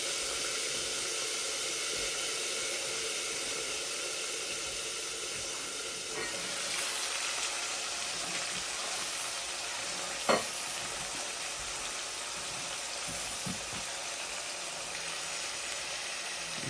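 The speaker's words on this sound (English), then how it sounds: "Let that sit there and saute for a few minutes." Natural seasoning sautéing in a hot pot, a steady broadband sizzle and hiss running throughout with a sharp clink of a utensil midway and no voices.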